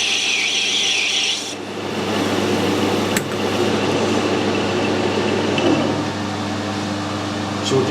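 A lathe takes a big cut in plastic, giving a continuous close rasping, scraping grind over a steady motor hum that lasts throughout.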